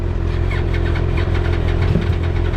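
Honda CBR 1000RR 1000cc motorcycle engine cranking and failing to catch, a steady close mechanical churn with low rumble throughout and no talk.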